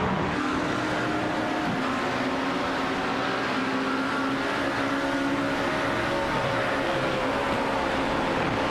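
GT race car engines roar steadily at Silverstone in sim racing, a sustained loud drone with rising and falling pitch as cars pass, no voices.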